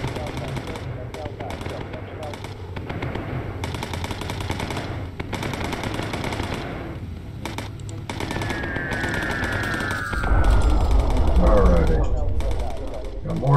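In the video game Bomber Crew, a bomber's 20 mm turret cannons fire in sustained rapid bursts over a droning engine, loud and continuous, while someone talks over the gunfire.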